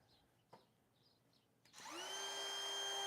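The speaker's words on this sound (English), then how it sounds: "It's amazing how much quieter the DeWalt is." A DeWalt power tool used for wood carving starts up after a few faint knocks and then runs steadily with a loud, even high-pitched whine for the rest of the clip.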